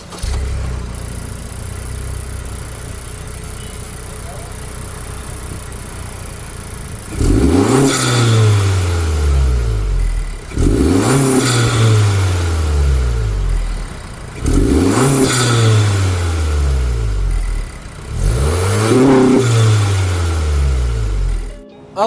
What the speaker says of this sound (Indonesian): Lalu untuk bagian knalpot pasti sudah dirubah juga menggunakan merek HKS Legamax Premium